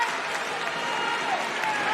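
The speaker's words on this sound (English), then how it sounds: "Fans certainly like it. They're cheering TJ on. A lot of noise." Fans at a high school wrestling senior night match, Timberlane against Pinkerton, roar and cheer during overtime: a dense, steady crowd din filling the gym at even loudness, with no pauses.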